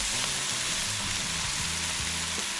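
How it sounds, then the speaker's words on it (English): Chopped carrots sizzle in a soup pot as they are stirred in, a continuous close frying hiss with faint scraping of the spoon underneath. "We'll stir those in."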